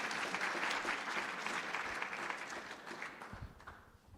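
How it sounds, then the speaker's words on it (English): Audience applause for Ambassador McFaul at a US-Ukraine science and education event in Washington, a dense steady clapping from a moderate crowd that fades out over about four seconds. "Please give a round of applause for Ambassador McFaul."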